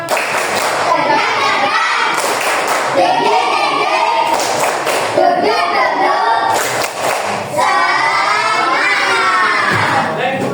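A group of children does a rhythmic spirit clap in a classroom, with loud chanted shouting over patterned clapping and thumps throughout, close and energetic.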